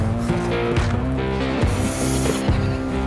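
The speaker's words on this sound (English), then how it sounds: "I simply shake it up and spray it on" Blue antiseptic spray being sprayed onto a dairy goat on a homestead: a steady, dense hiss that runs continuously through the moment with faint thumps underneath.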